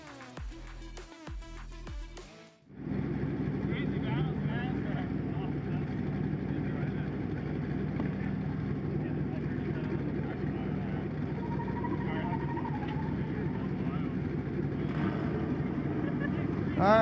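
Drift cars at a grassroots drifting competition at Agassiz Speedway roll up to the start line, a steady, low engine rumble that follows a brief burst of music and carries on with little change.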